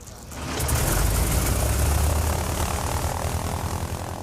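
A North American Harvard trainer, a heavy 600-horsepower propeller plane, drones past in flight, its engine swelling quickly to a loud, steady rumbling roar that then eases slightly, with no voices.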